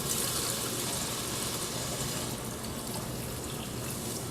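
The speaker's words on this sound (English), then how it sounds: "we're going to put in some water and bring it to a boil" Tap water runs steadily into a cooking pot to be brought to a boil, a continuous broadband rush at an even level throughout with no voices.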